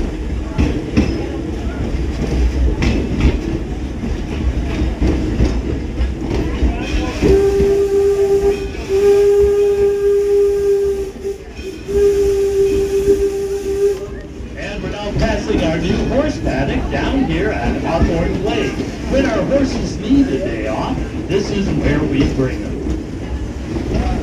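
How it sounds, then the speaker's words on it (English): An 1897 Baldwin steam locomotive chuffs and hisses at Greenfield Village while a long steady whistle sounds in several blasts, with people talking over the rail noise. "the locomotive at the head of our train today is our 1897 Baldwin"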